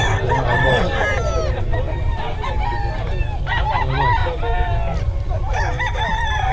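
Several roosters crow loudly and repeatedly at a chicken market in Bocaue, overlapping one another with clucking, over a constant busy background murmur.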